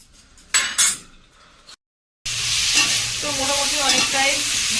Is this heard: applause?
no